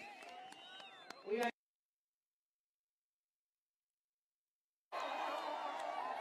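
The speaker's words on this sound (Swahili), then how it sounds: "Huyu anaitwa Mheshimiwa Eric Wamombi wa Madera, mpigieni makofi." A crowd at a political rally in Kirinyaga, Kenya, cheers and claps in two loud bursts with voices mixed in, separated by a few seconds of silence.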